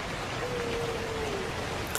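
Heavy raindrops falling on leaves make a dense, steady hiss of rain that stays constant and fairly soft throughout, with no distinct separate drops standing out.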